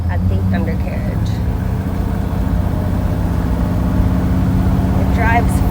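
A 1956 Ford Thunderbird engine rumbles steadily as it drives along the road, a low, continuous drone with brief, faint voices near the start and end.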